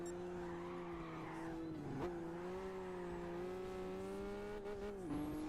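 A race car in the Gran Turismo 5 video game drives hard with a steady, droning engine tone and long tire squeals through the corners, fairly faint and without speech.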